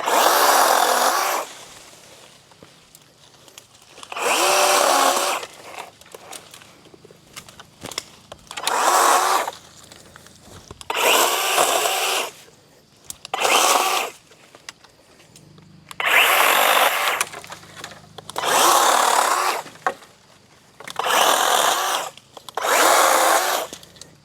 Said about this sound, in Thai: อันนี้เป็นการทดสอบเลื่อยนะของดองเชง